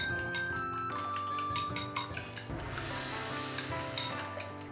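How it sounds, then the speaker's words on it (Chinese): Eggs seasoned with salt and white vinegar being beaten in a bowl: quick irregular clinks and taps of utensil against the dish, fairly faint, over a steady tonal background with no talk. "然后把鸡蛋搅散，充分的搅拌均匀。"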